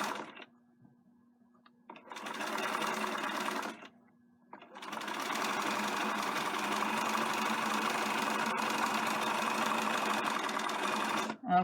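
A sewing machine zigzags elastic onto a knit skirt in one short burst and then a long steady run, its motor humming and the stitching rattling close by.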